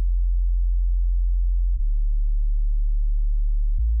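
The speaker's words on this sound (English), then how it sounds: "we'll start off with the sub bass. Basically, just a really, really simple performance that I've laid down." Synthesizer sub bass from a Mai Tai synth playing a very simple line: a deep, steady sine-like low tone sustained for almost two seconds at a time, with a short click where the note changes, alone.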